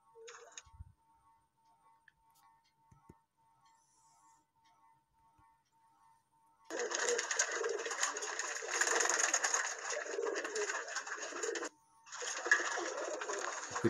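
A white golden male pigeon coos, faint at first and then joined by a loud, steady, noisy background that continues to the end.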